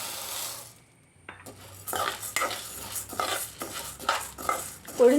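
Urad dal dropped into hot coconut oil in a pan and stirred, with metallic scraping and clinking of a utensil against the pan over a soft sizzle, close and steady after a brief quiet start.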